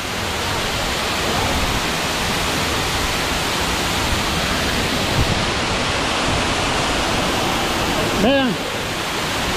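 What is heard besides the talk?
waterfall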